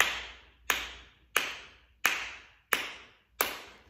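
Hands clap a steady beat in a music class, six sharp, even claps about two-thirds of a second apart, each ringing briefly in the room, close and alone with no talking.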